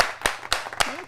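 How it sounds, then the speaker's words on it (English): Three sharp claps ring out in a short burst to welcome a guest onto a podcast, evenly spaced and fairly close, with no talk over them. "Ladies and gentlemen, big round of applause, Miss Lorraine Bautista."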